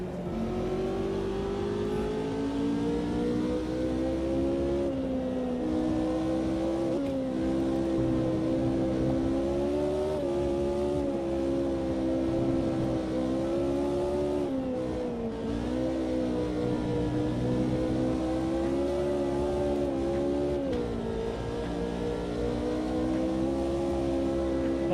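A sim racing game car drives steadily with its engine droning at a sustained pitch that rises and dips as it is pushed and braked around the circuit, loud and continuous with no talk.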